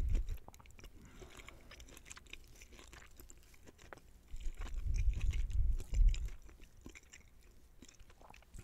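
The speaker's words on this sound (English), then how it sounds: "Let's go ahead and take a nice bite." Lobster with Kerrygold butter is eaten close to the microphone in an ASMR mukbang. The soft, wet chewing and mouth sounds grow fuller and louder mid-clip, then ease off.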